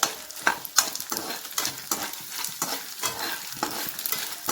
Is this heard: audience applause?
no